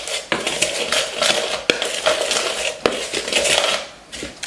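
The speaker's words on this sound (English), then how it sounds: "Okay, so I'm going to stir this all together." A pepper and onion powder mixture stirred together in a bowl: close, brisk clinks and scrapes of a utensil, with a few sharper knocks against the container and no voices.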